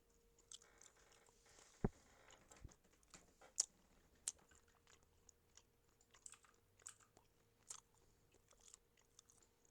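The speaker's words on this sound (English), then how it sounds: "I'm going to pop another piece of gum in my mouth" Gum chewing close to the microphone during a quiet ASMR session while a craft model of an aviary castle is worked on, with soft irregular mouth clicks and smacks alongside occasional light tapping.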